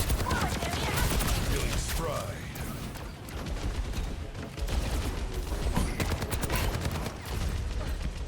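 Rapid bursts of automatic rifle fire from Soldier 76 in Overwatch 2, dense and continuous for several seconds, with mechanical clatter and game effects layered over it.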